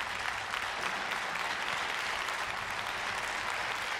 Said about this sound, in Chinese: 场上是给予他鼓励的掌声